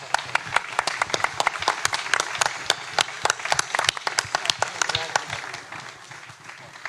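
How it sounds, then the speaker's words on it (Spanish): An audience claps after a documentary screening at a film festival, sharp individual claps ringing out in a lively burst that thins and fades toward the end, with some voices mixed in. "Muchas gracias por estar aquí y un aplauso."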